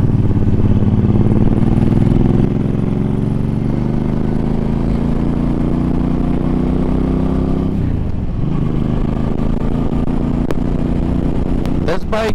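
A Suzuki M50 cruiser motorcycle is ridden, its engine giving a steady, loud, low drone that dips briefly as the revs change, with wind noise over it and a rider talking over the engine.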